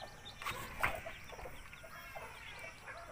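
Chickens and chicks in a backyard coop cluck softly, with a few brief sharper calls standing out over quiet, distant farmyard background noise.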